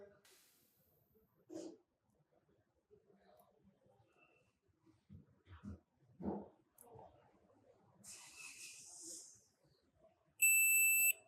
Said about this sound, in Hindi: चार कंपोनेंट बीप दे रहे हैं इसके पास लगे हुए